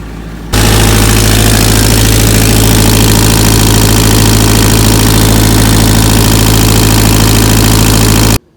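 A boat engine idles steadily in reverse gear under load while it is checked for a fuel line air leak. It runs loud and close with an even low drone, starting abruptly and cutting off near the end.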